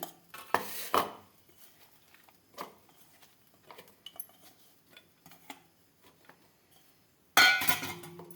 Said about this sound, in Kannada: ಇದನ್ನು ಒಂದು ಮಿಕ್ಸಿ ಜಾರಿಯಲ್ಲಿ ಹಾಕೋತಾ ಇದ್ದೀನಿ